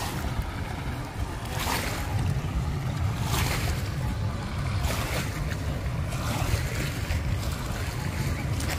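Loud, steady water rushing through a river sluice gate roars close by, with a voice speaking over the torrent.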